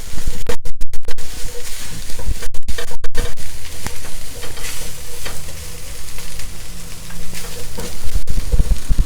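Spices toasting in a pan for samosa filling, a steady close sizzle and frying hiss with scraping stirs and a few sharp clatters of the spoon against the pan.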